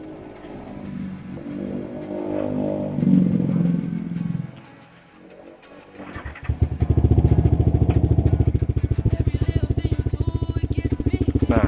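A Yamaha R15 V3 motorcycle fitted with an R9 Misano aftermarket exhaust idles, dips briefly, then revs up into a loud, sustained, rapid burbling exhaust note heard close up.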